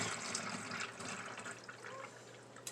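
Simple syrup is poured into a Pepsi bottle with holes in the lid, giving a short, quiet, close-up liquid gurgle and trickle.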